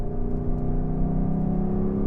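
Steady, loud hum of a Lexus LC500's naturally aspirated V8 heard from inside the car, a smooth continuous engine drone with no voices over it.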